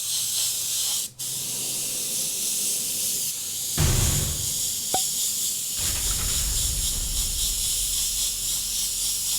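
An airbrush sprays paint onto white canvas in steady hissing bursts, sketching a cloudy storm pattern, with brief pauses and a short break near the start, close and fairly loud.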